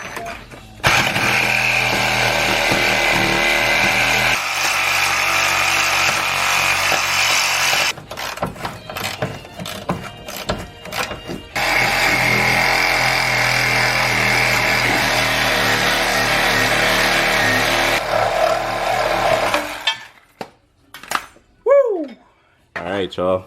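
A power tool grinds steadily through both ends of a control arm bushing on a lifted first-generation RD1 Honda CR-V rear suspension, loud and close, pausing briefly between cuts, with a short chirp near the end.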